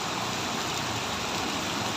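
Heavy rain falls in Koramangala as a dense, even hiss. It is constant and fairly loud, with no break and no voices.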